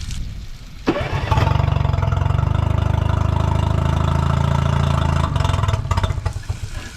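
A seized Honda 20hp outboard motor, just restored, cranks and catches, then runs with a loud, steady rapid chug for several seconds before sputtering down.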